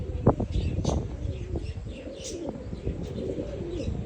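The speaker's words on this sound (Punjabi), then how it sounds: "ਚਾਰ ਕਬੂਤਰੀਆਂ ਉੜਦੀਆਂ" Pigeons coo repeatedly and nearby in a loft where the birds are flown, with soft chirps and a bit of wing flapping over a busy background.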